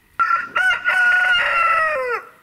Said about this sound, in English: So the chickens are out.